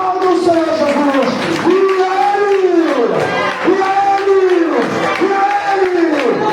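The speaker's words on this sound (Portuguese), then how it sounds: "digam aleluia e aplauda o Senhor Jesus" A church congregation cheering and applauding at a Portuguese-language service: a loud, dense wall of voices shouting praise in repeated rising-and-falling waves, with scattered clapping mixed in.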